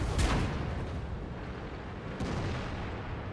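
A tank shell bouncing off armor at long range in World of Tanks, a World War II-era armored battle game: a sharp distant crack and boom at the start, then a rumbling battlefield bed with a second faint hit later.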